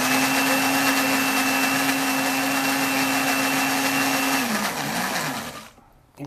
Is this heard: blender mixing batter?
yes